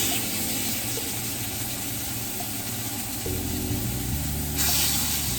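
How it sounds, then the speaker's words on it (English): Steak sears in a smoking-hot cast iron skillet, making a steady, loud, broadband sizzle and hiss that runs unbroken throughout and swells slightly near the end, close up with no voices. "we want it to be super hot because we want it to sear on one side for about 2 minutes"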